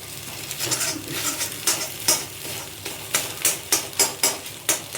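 Punugulu made from leftover idli batter sizzle steadily in hot oil, with a run of sharp, rhythmic scraping and stirring strokes from a utensil against the pan growing regular toward the end.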